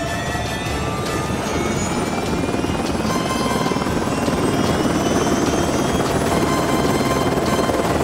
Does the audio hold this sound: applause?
no